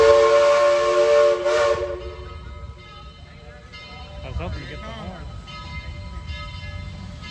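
The steam whistle of Southern 4501 blows loud and close for nearly two seconds, then cuts off. Rumbling train noise and people talking continue after it.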